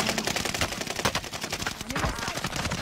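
Gunfire rattles in a fast, dense burst throughout a Warzone video game match, with sharp repeated cracks blending into a continuous clatter and heavy game ambience.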